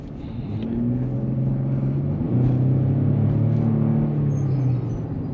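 A Chevy truck engine revs and accelerates, a steady low rumble that swells in loudness partway through and holds, with no talking over it.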